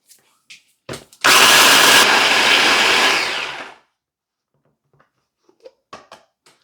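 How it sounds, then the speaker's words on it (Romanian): An electric kitchen blender grinds oats into flour in a loud, continuous whirring burst lasting a couple of seconds, with brief clicks and handling noises before and after. "O să le pun așa într-un blender din ăsta și le voi face foarte mărunte."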